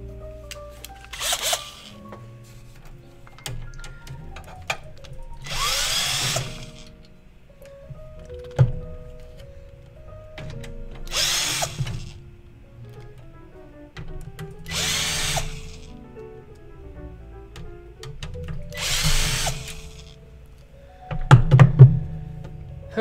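A power screwdriver backs out the screws holding a server's front fan, giving several separate whirring bursts spaced a few seconds apart, with clicks and handling knocks between them and a louder clattery burst near the end.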